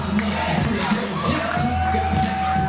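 A live independent wrestling crowd in an arena cheers and shouts continuously during a playful dance-off, a dense, loud roar of many voices with scattered whoops and a faint steady whistle-like tone mid-way.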